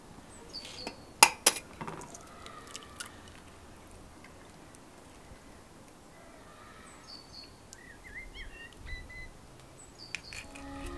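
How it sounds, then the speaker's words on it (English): Eggs are cracked against a bowl outdoors and split into two whole eggs and separated yolks: a couple of sharp close clicks and taps early, then quiet shell-shuffling and faint clinks over a low background hum. "So first I'm going to split the eggs."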